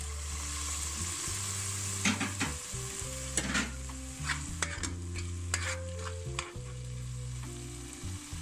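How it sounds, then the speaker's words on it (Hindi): Okra masala with red chili frying in oil in a pan, a steady sizzle broken by repeated scraping stirs, close and moderately loud with no talk. "अब इसको हम थोड़ी देर फ्राई करेंगे 2 से 3 मिनट तक, ताकि इसका ऑयल थोड़ा सा ऊपर आ जाए और मसाला सही बन जाए इसका"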